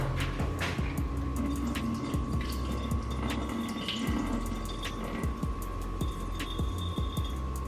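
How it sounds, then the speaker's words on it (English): Liquid drains from a can of sweet peas into a sink in a thin, trickling stream, quiet and continuous with a faint electrical hum underneath and small splashes. "I'm gonna pull half of the juice off."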